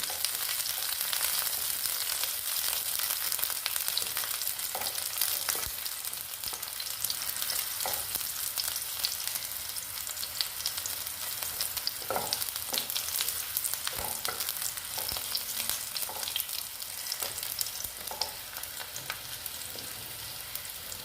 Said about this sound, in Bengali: রসুনগুলো দিয়ে একটু ভেজে নিচ্ছি।